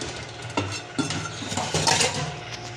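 Dishes used for gram flour batter get washed by hand, with close clinks and clatters of metal utensils and pans knocking together at irregular intervals over running, splashing noise.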